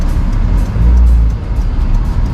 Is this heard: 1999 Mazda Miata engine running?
yes